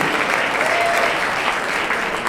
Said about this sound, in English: can we give a big round of applause for all our friends of ECDC?